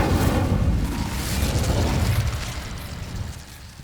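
Fiery burst of the Incendio spell cast in the Hogwarts Legacy video game, a loud whooshing blast that roars at once and slowly fades over several seconds.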